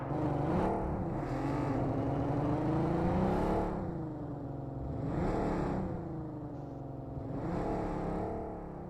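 A car engine revs and whines in a video game, rising and falling in pitch through several acceleration swells, steady and continuous.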